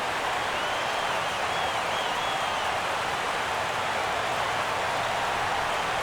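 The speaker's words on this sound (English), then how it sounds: "And listen to this crowd now. They are into it." A stadium crowd in the baseball video game MLB 15: The Show roars continuously and evenly throughout, a dense, steady wash of cheering with no clear breaks.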